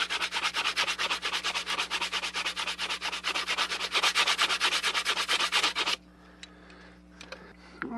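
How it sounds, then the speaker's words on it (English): Rough-grit sandpaper rubbed by hand along a knife blade, fast rhythmic scratchy back-and-forth strokes, close and loud, stopping about two-thirds through, followed by quiet handling noises. "I think now I'm just going to finish it off with some sandpaper."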